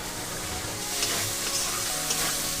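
Spice masala for green pea ghugni frying on a low flame, a continuous soft hiss and sizzle with light stirring, evenly loud and without talk.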